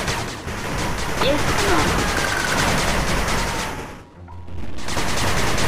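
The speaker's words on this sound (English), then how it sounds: "Machine gun turret under attack." Gunfire and explosions from an attack on a machine gun turret in the 8-bit Armies strategy game, a dense, loud barrage with short voice lines over it, dipping briefly before the battle noise returns.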